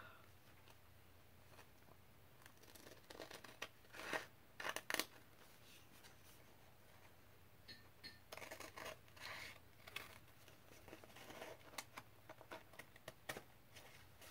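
Scissors snip out paper napkin pieces in a quiet room, a scattered run of soft, close clicks and rustles, clustered in short bursts with pauses between.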